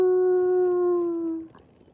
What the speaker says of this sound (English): I can hear the coyotes, or they're like maybe some foxes and stuff